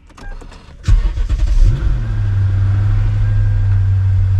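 A 2008 Lexus GS460 that has sat unused for a month cranks briefly and fires up, settling into a steady, close, low idle.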